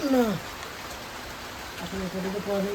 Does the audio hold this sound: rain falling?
yes